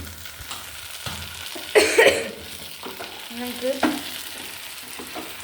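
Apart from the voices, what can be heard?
prawns frying and being stirred in a pan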